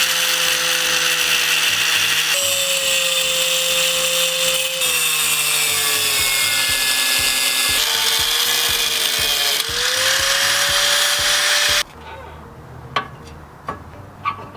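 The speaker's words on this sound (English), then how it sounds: "I'll just get a cut-off wheel, cut about 1 inch off of that" A cut-off wheel grinds through a steel BMW inner tie rod in long, loud, screeching passes whose pitch sags under load, then stops, leaving a few clanks and handling noises.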